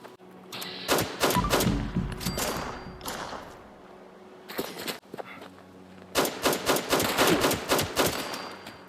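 Bursts of rapid gunfire from the video game Fallout 76 come in two dense stretches, first around the opening seconds and again near the end, with thuds and clatter between them and a faint steady game tone underneath.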